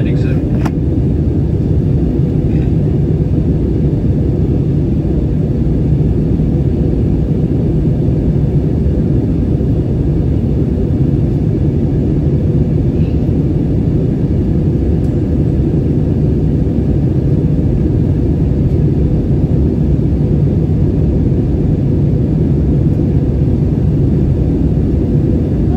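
A loud, constant low roar fills the cabin of an American Airlines Airbus A321 flying through rough air on its approach to landing in Charlotte, steady and unbroken, with no one talking.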